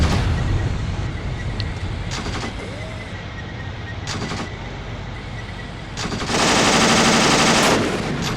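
Gunfire in the WWII tactical video game Achtung Panzer aimed at a half-track, with scattered sharp shots and short bursts, then a loud sustained burst of machine-gun fire near the end.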